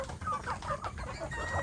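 Free-range Indonesian village chickens cluck steadily and close by, several overlapping soft calls forming a busy backyard chorus with no talking.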